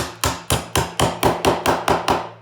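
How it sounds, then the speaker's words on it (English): A claw hammer drives a nail into a wooden bird house with nine sharp, evenly spaced strikes, loud and close, with no talking. "So claw hammer, like this, stick her in."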